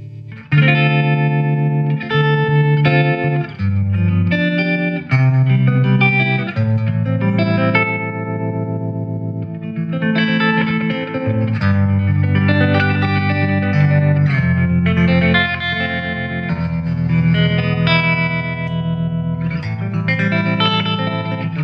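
Electric guitar chords ring out through a Fender '65 Twin Reverb Reissue amplifier, washed in reverb with a pulsing tremolo wobble, played continuously and loud.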